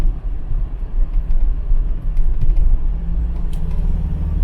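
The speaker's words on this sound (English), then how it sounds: "There's a kick down there" A Ford Cortina Mk3 with a Pinto engine and A4LD automatic gearbox kicks down, a loud, steady low engine rumble from inside the car that swells slightly as the gear drops.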